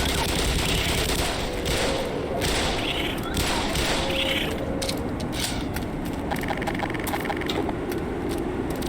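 Gunfire in the Black Mesa video game, sounding as a continuous dense roar of rapid shots and mechanical clatter that stays loud and steady throughout, with no pauses.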